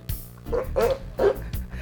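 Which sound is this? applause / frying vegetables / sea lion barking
sea lion barking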